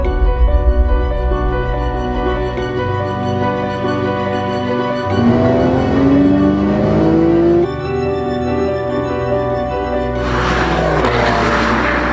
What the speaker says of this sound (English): That car is the 2012 Porsche 911.